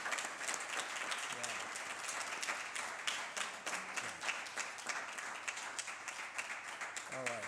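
An audience at an evening talk on African American music applauds steadily, with dense sustained clapping filling the room, fairly distant and even. A voice speaks briefly over it.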